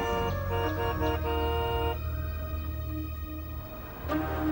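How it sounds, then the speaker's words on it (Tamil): A car horn honks in long, steady blasts for about two seconds, fairly loud and close, then a quieter stretch follows with another brief swell near the end. "எவ்வளவு நேரமா ஹார்ன் அடிச்சிட்டு இருக்க?"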